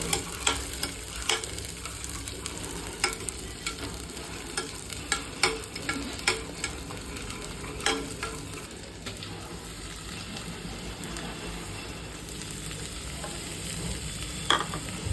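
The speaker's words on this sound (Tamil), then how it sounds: "ஆனியனை போட்டு ஒரு கிளறுங்க" Continuous sizzling of onions frying in a pan, with intermittent scraping and clinking of a utensil stirring them, close up and without talking.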